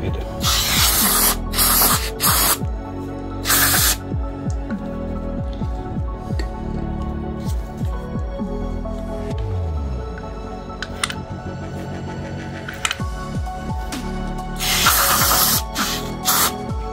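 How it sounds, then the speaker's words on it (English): Short bursts of carburetor cleaner sprayed from an aerosol can onto the intake manifold of an Audi A1 under repair, several loud hissing blasts separated by quieter handling noises. "Just giving this a little clean. Proper carburetor cleaner"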